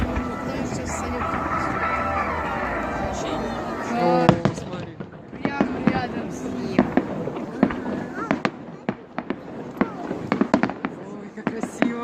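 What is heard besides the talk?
fireworks exploding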